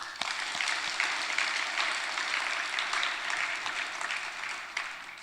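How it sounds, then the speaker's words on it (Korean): A church congregation applauds children at an early-morning service, steady dense clapping from a crowd sustained evenly for several seconds, moderately distant and unbroken. "아이들 한번 박수 쳐줘요"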